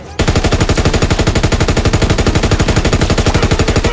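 A heavy machine gun in a World War II shooter hammers out a steady, unbroken burst of rapid, evenly spaced shots, loud and close, sustained from start to finish with no pauses.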